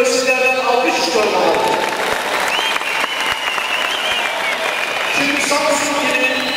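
Audience applause at a Turkish public speaking event, steady clapping filling the room throughout, with voices audible over it.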